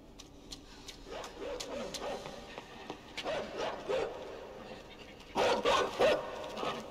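A dog barks in the side-scrolling video game Inside, several short barks in bursts, growing louder and more frequent toward the end over faint game ambience.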